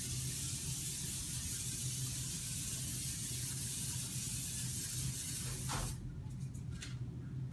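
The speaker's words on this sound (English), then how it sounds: "I'm going to go ahead and spray that in the pan." A long, steady hiss from an aerosol can of cooking spray sprays continuously into a pan for several seconds, then cuts off, leaving a few small clicks.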